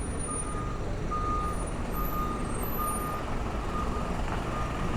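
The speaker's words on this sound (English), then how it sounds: "I do believe that might be a fish truck" A truck backing up in the town streets of Avalon on Catalina Island, its steady reversing beeps repeating at a regular pace over a constant outdoor engine rumble, with no talking.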